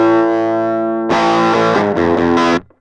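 An electric guitar played through a Walrus Iron Horse distortion pedal rings with a sustained chord, then a few quick gritty distorted strums and notes before cutting off, loud and close.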